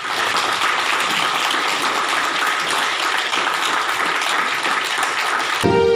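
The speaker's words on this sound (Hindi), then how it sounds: "कोरोना का हरा कर घर पहुंचे मरीजों की इस जीत में तालियां भी बज उठी।" Sustained, dense applause from a group greeting recovered COVID-19 patients discharged from a hospital in Ratlam, steady and loud for several seconds before cutting off abruptly near the end.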